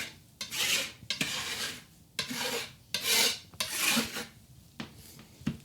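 Food scraped up off a cutting board during gluten-free wedding cake prep with coconut, in repeated rasping strokes of about a second each, close and fairly loud, with short pauses between them and no talk.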